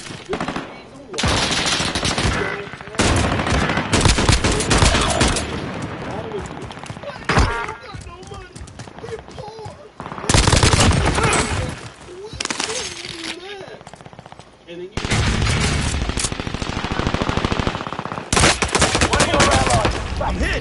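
Gunfire in the shooter Call of Duty Warzone: loud rapid automatic bursts in several long stretches with brief pauses, while a player talks over parts of the shooting.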